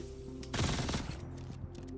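Kastak Arms Custodian SMG burst fire in Star Citizen, a rapid rattling burst of shots lasting about half a second over a steady game hum, then fading.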